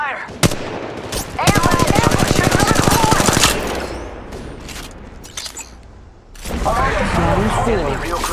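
Rapid automatic gunfire in an Apex Legends Mobile match, with a sharp single shot and then a long fast burst of close, loud rounds, followed by scattered distant shots and a burst of noise near the end, with in-game voice callouts mixed in.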